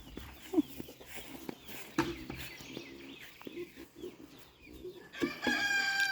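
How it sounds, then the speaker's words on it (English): On a family farm, a rooster crows faintly in the distance amid scattered clucks and small movements, with a brief louder burst near the end. "quit chasing the rooster and get your bucket"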